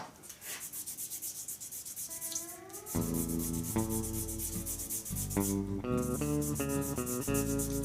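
Finer-grit abrasive rubs a spinning resin handle blank on a lathe, making a steady, close hissing whir. Tonal music begins partway through and plays under the sanding.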